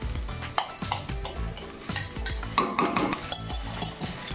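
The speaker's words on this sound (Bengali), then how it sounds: "চালটা ভালো করে ভাজতে হবে।" Raw rice being stirred and fried in a pan over a lowered gas flame for pulao, a steady run of close scraping and sizzling strokes with clinks of the spatula against the pan.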